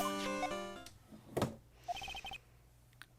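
An Ace Attorney: Trials and Tribulations ringtone, a short bright melodic chime playing in a few repeated pips after a brief burst of game music, fairly soft and alone.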